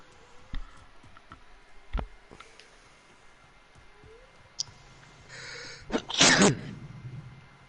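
A person sneezes once, loudly and up close, after several seconds of faint clicks and quiet room noise.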